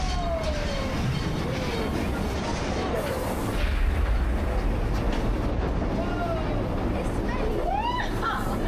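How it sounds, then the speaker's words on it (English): Mine ride train at Knott's Berry Farm in California rolling along its track: a steady, close rumble of wheels and rail noise with whistle-like tones drifting in and out over the full stretch. "Slow that train down there."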